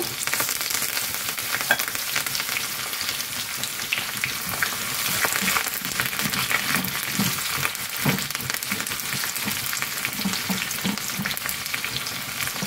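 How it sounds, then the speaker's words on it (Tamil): Steady, loud sizzling of spices, shallots and curry leaves tempering in hot groundnut oil, continuous crackle throughout with no voices. "நான் கடலை நெய்யில் தான் தாளிக்கிறேன்"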